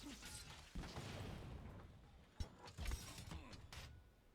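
Gunlance standard reload in Monster Hunter World: a stretch of mechanical clanking and ratcheting with several sharp metallic clicks and clunks, close and moderately loud, no talk.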